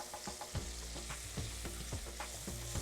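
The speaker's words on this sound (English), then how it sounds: "Just fry that out to take the bitterness out." Ginger and garlic paste frying in a pan while being stirred, a steady sizzle broken by repeated scraping spoon strokes in a regular rhythm, close and moderately quiet with no talk.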